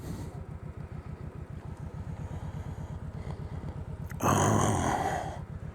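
A motorcycle with a heel-toe shifter idles with a fast, even low-pitched thump close by, then a brief burst of revving and clatter before it settles back to idle.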